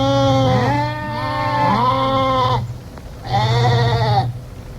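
A sheep bleats loudly nearby, two long wavering calls separated by a short pause over a low hum.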